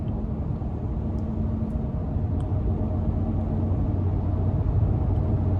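A 2020 Ram 1500 Big Horn pickup cruising around town on light throttle gives a steady low engine rumble with road and cabin drone, constant and moderately loud throughout, with no talk.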